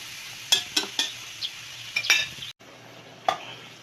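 Vegetables being stirred in a cooking pot for a crab and vegetable coconut stew: a few sharp clinks and scrapes of a utensil against the pot, spaced irregularly over a faint sizzle, with no talk.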